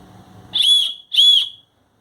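A small safety whistle on a multifunctional keychain flashlight gives two short, shrill, loud blasts close by, with a brief gap between them.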